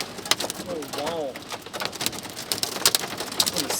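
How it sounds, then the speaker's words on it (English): Hail patters and clatters sharply on a car roof while sheltering under a tree, a dense irregular drumming with louder individual hits, as people talk in excited voices over it. "you have this hail coming, becoming bigger and bigger"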